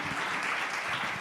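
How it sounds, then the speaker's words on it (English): Brief applause from the audience at a health and wellness summit, a short, steady patter of clapping at moderate loudness. "Please give Mr. Mehta a big round of applause for being very"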